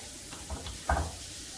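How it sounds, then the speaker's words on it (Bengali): Two large chopped onions with salt fry in a pan, a soft, steady sizzle running throughout with a couple of brief stirring scrapes near the middle. "পেঁয়াজ ভেজে নেব।"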